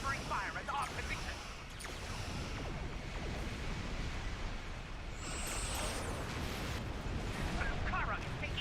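Enemy weapon fire striking a starship in Star Trek Online, a steady rumbling barrage of booming impacts and crackling under continuous noise, with faint electronic zaps and some speech in the background.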